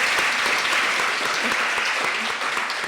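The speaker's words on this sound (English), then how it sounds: "Round of applause." A room full of people claps steadily as a speaker named Megan is introduced, a dense, even wash of applause close by that lasts the whole moment.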